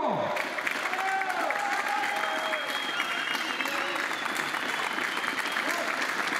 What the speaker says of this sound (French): 1 minute d'applaudissement pour l'un des fondateurs de Bud Racing.